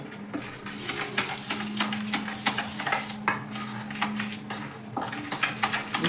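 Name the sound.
stirring mixture in a bowl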